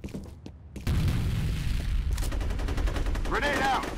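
A grenade bursts in a Counter-Strike match, a sudden loud boom followed by sustained rumbling gunfire and crackling battle noise, with a voice briefly heard amid the chaos.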